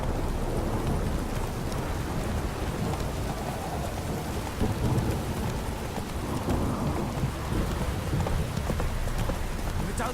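Steady heavy downpour with rumbling thunder in The Witcher 3 game world, a dense continuous roar of rain under low booming rolls, with faint hoof-like clopping in the mix.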